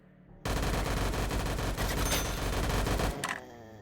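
Rapid bursts of ray gun fire from a VRChat zombies-style game ring out loudly and continuously for a few seconds, dense and sustained, then cut off abruptly.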